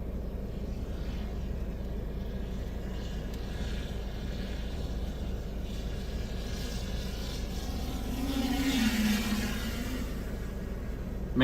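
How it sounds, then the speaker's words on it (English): A loud camera drone hovers and flies during a storm chase in Illinois, giving a steady whirring drone that rises slightly in pitch and strength toward the end, with no talking. "Man, this drone is loud."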